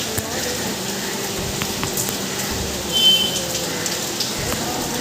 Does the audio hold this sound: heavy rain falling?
yes